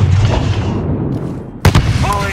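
A grenade blast in the Call of Duty Modern Warfare video game comes as a sudden loud broadband burst partway through, set against a dense, rumbling battlefield din, with a voice speaking shortly after.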